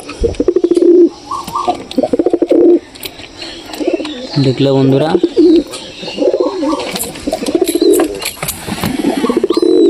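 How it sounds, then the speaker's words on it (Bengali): Pigeons cooing close by at a bird loft, soft repeated coos woven under a man's steady Bengali-speaking voice throughout. "পায়রাই হবে পায়রার মতন এটা"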